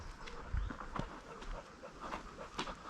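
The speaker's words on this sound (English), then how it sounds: "he's still panting because he has been pulling in that heat up there" A dog on a walk in the heat after pulling hard on the lead pants in quick, steady breaths close by, over outdoor background noise.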